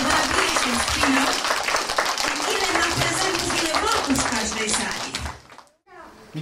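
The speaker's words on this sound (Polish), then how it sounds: "Dlatego teraz wielkie brawa dla naszego Mikołaja" Children and adults at a school Santa Claus celebration clap for Santa in a loud, dense burst with cheering voices mixed in, which fades out toward the end.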